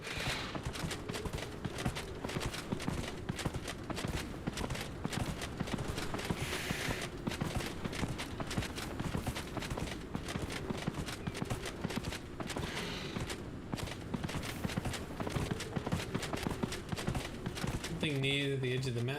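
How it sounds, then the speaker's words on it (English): Continuous rapid clip-clop of horse hooves sounds as a mount is ridden across open terrain in Dragon Age: Inquisition, steady and dense throughout with faint game ambience beneath. "let's horsey up. Mount up."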